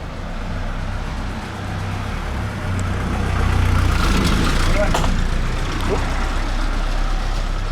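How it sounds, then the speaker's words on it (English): A car rolls slowly up a narrow stone street in Malta, its engine note building gradually over steady outdoor ambience, with a voice speaking briefly nearby. "The car is coming, I need to come here."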